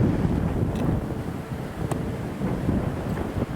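Strong wind roars steadily during a wildfire in Portugal, a loud, gusty rush buffeting close to the microphone with low rumbling throughout and no talk.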